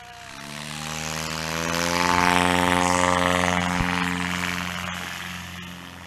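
An experimental STOL bush plane takes off at a Sodbusters STOL event in Brainerd, its propeller engine rising to a loud, steady drone and rising in pitch as it passes close, then easing slightly.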